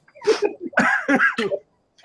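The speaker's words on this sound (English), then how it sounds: "you can tell from me coughing" A man coughs several times in quick, harsh bursts close to the microphone, then pauses before one more short cough.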